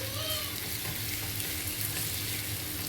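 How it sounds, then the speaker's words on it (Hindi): Sliced onions fry in a pan of hot oil over a high flame for birista, giving off a steady, dense sizzle at close range. It carries on unbroken with no voices. "हाई फ्लेम पर ही इसको हमें कुक करना है, क्योंकि हमें इसका अच्छा खिला खिला बिरिस्ता बनाना है।"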